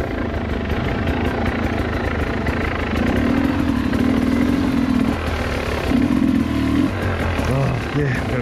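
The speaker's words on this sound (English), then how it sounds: "Husky 150 and KTM 250, both brand new bikes." Two brand-new dirt bikes, a Husqvarna 150 and a KTM 250, run on a trail with a steady, loud engine drone and a couple of revving surges, while voices talk over them.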